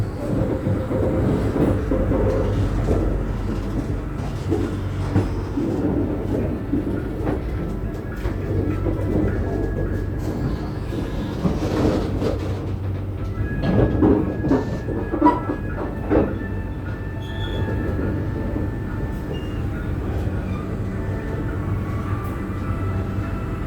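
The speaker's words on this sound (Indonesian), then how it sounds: "Ini dia kereta rescue yang disiapkan untuk proses perbaikan di jalur Cikaum Pegadaian Baru" Rescue train on a railway line prepared for track repair work, a continuous low rumble and rolling rail noise with occasional clanks, heard from nearby throughout with no speech.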